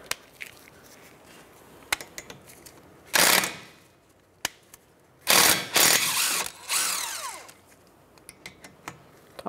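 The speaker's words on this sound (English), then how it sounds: "The two slider bolts are a 14 millimeter socket. We're gonna just take those off" A power tool with a 14 mm socket removing the brake caliper slider bolts on a 2010–2015 Lexus RX350, heard as two loud close bursts of whirring ratchet noise among scattered metallic clicks.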